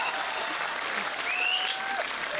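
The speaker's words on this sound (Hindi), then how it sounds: "ताली नहीं बजाओगे तब तक कार्यक्रम नहीं दिखेगा।" An audience at a Hindi comedy poetry show claps steadily and loudly throughout, with a faint whistle and crowd murmur running through the applause.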